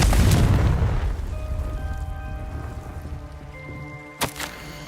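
A Confringo fire-blast spell explodes in the Hogwarts Legacy video game, a loud booming burst that fades into a crackling, ringing decay, followed by a short sharp crack near the end.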